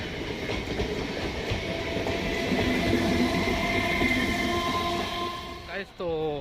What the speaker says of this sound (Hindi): तो ट्रेन जा चुकी है